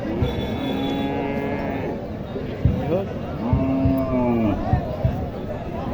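Several dairy cows moo loudly in long, drawn-out calls at a cattle market in Naogaon, Bangladesh, over a busy background of people chatting.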